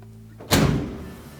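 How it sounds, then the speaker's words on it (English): A Frigidaire dryer door swings shut and latches onto its new strike with one solid close thud, followed by a short fading rattle in a quiet room. "Check the operation of the door"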